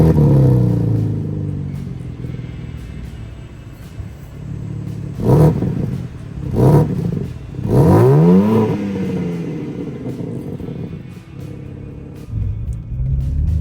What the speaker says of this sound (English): under the bonnet is the infamous S58, which is a 3-liter inline 6-cylinder petrol engine